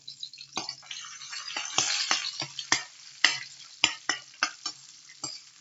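Ingredients sizzle in a hot frying pan while a utensil scrapes and stirs them, giving a steady bright hiss broken by frequent sharp clacks and scrapes that grow more regular toward the end.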